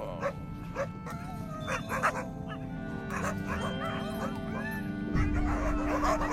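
Greenland sled dogs bark, yelp and whimper in an excited, overlapping chorus at a man dressed in a bear skin during bear-hunt training, with the yapping continuing throughout and growing denser toward the end.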